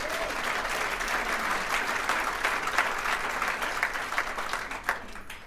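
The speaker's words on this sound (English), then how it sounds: "Give him a big round of applause." A crowd at a political address gives sustained, dense applause, the clapping holding steady at moderate loudness throughout with no speech over it.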